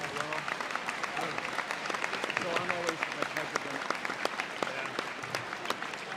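A crowd at a high school wrestling meet, North Scott Lancers hosting Bettendorf Bulldogs, gives a steady round of applause in the gym while someone talks over the clapping.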